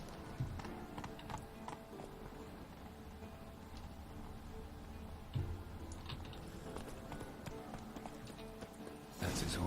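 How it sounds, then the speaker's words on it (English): A horse in The Witcher 3 game clip-clops with steady hoofbeats on a hard surface, quiet and rhythmic under ambient noise, with a sharper thump near the end. "That's his horse."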